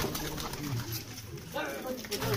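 Pigeons coo softly in low, throaty bursts while someone talks over them, with faint rustling around the birds.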